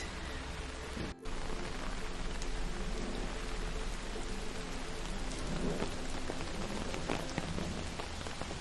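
Steady rain pours down at an outdoor wildlife zoo, a dense, even hiss of drops hitting surfaces close by, with one brief dip in the patter and no voices.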